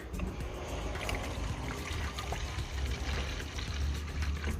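Egg-hormone plant-feed mixture is poured steadily into a spray bottle, a continuous splashing, trickling stream close by with no talking.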